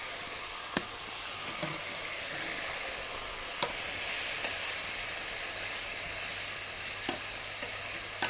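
Meat and onions fry over high heat in a pan for jjajangmyun, a steady close sizzle with a few sharp clicks from the stirring utensil.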